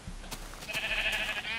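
A sheep in the Minecraft video game lets out a single drawn-out bleat, clear and close, with no other sounds around it.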